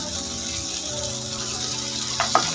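Melon seeds and cashews being stirred in a hot pan, a steady soft sizzle with faint scraping throughout and a few louder clinks near the end.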